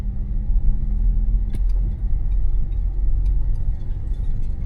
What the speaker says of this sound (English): Car's running normally.